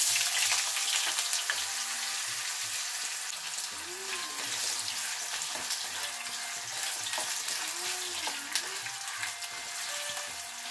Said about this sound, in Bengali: এই আলুটা একটু ভাজা ভাজা হয়ে গেছে।